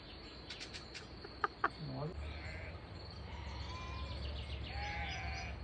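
Sheep and goats bleat and call a few times early on in the mountains, then a steady low rumble and distant bird-like calls continue; no clear talking.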